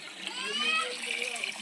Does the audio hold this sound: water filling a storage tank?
yes